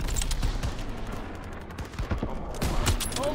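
Rapid, dense bursts of gunfire in a Call of Duty WW2 battle scene, a near continuous fusillade of rifle and machine gun shots with sharp cracks throughout.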